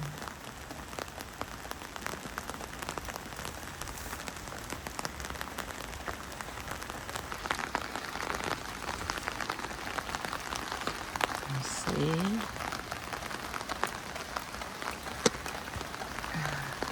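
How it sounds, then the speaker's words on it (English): Steady rain pattering on a beach umbrella sheltering mango trees, a dense even hiss of drops close by with no talking. "you see the rain on the beach umbrella is protecting the mango trees from the rain"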